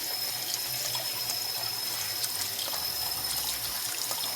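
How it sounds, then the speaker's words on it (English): Brown rice is rinsed under cold running water, giving a continuous close trickle and splash, like a tap running into a sink, with small clinks and swishes mixed in. "Just rinse it in some cold water."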